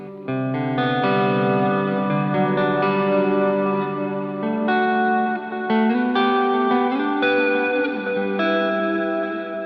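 Clean electric guitar plays sustained chords and melodic notes, light picking on the neck pickup with the drive off, washed in reverb and trailing delay echoes, with no voices.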